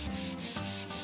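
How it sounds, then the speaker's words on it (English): Folded sandpaper is rubbed back and forth along the grain of a wooden toy chest. Four quick, soft, rhythmic scratching strokes come up close, with no other sound. "fold a quarter sheet of sandpaper into thirds. Then apply steady pressure as I move back and forth, always in the direction of the grain"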